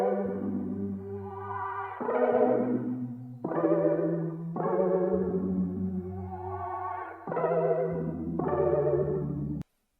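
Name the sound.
audio sample pitched and reversed with chorus and reverb effects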